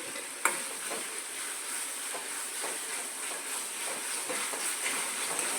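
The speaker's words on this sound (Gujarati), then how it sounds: "હવે તેમાં આપણે આ લાંબી શેર કરેલા ટમેટા નાખી દઈશું." Sliced tomatoes go into green corn sabji frying in oil. A soft thump is followed by a faint, steady hiss and sizzle with gentle stirring scrapes. Quiet and close, with no talk.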